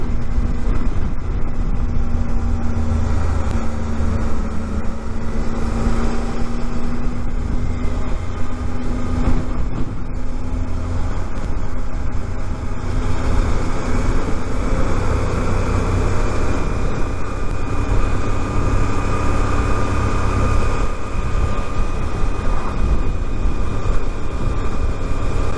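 A Suzuki 800DE adventure motorcycle cruises downhill in 4th gear at about 35 mph on a road toward Cody near Yellowstone, its engine drone steady and loud throughout with heavy wind rush and no voices.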